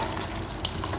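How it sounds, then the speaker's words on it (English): Beef kaldereta being stirred in a frying pan, a brief soft sizzle with scraping and spoon sounds. "Keep stirring it"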